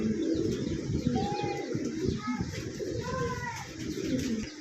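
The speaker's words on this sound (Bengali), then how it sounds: "এত সুন্দর একজোড়া রেড লাহোরি কবুতর আছে" A pair of Red Lahori pigeons coos repeatedly, soft warbling calls rising over a busy bird-market din of other pigeons and faint chatter.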